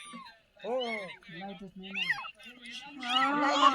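A kitten mews in short, high, wavering cries, several in a row at close range, with people talking around it and a louder burst near the end.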